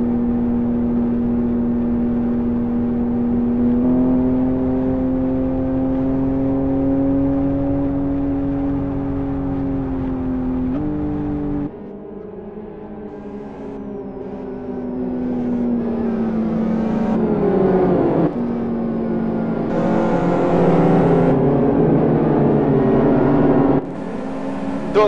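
GT1 World Series race cars roll around on a pace lap, their engines droning and rising in pitch as they accelerate and pass, loud and continuous with no talk over them.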